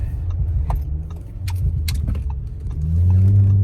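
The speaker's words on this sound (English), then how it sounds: "You could hear the car gurgle and pop at every downshift." Inside an Audi B9 with an ECS X-pipe exhaust, a deep low exhaust burble runs under sharp crackles and pops, then the engine revs up into a louder, steadier drone toward the end.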